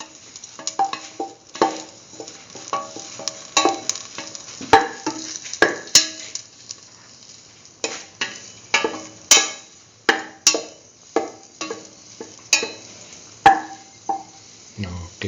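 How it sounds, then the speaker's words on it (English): Raisins sautéing in a pan while being stirred: a soft steady sizzle with repeated scraping and clinking strokes in an uneven rhythm, close and moderate in volume. "saute thoroughly, and the raisins pop up"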